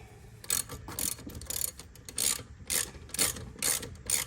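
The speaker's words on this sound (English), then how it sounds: "Before I get a ratchet on there." A hand ratchet with a 13/16 socket tightens lug nuts on a Ram truck wheel, giving crisp, close clicking bursts in a steady back-and-forth rhythm, with about eight strokes and no talking.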